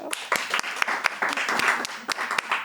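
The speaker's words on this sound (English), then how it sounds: "Let's give her a big round of applause." A small audience applauds at a startup pitch event, a short burst of scattered, fairly close hand claps with an uneven rhythm and no speech.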